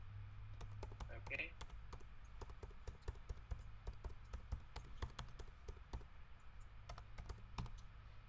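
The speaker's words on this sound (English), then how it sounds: "now I'm going to start typing" Rapid typing on a computer keyboard, a steady stream of sharp clicks and taps repeated over several seconds, with soft talk and low room hum underneath.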